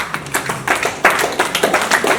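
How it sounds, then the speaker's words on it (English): An audience at a clean-energy finance and investment training session in Anambra gives a short round of applause, a brief, close burst of uneven, scattered clapping lasting about two seconds. "Can we please give them a round of applause?"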